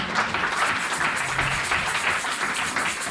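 A church congregation applauding during a service, giving a steady, continuous wash of clapping from many hands, moderately loud and even throughout, with no pauses.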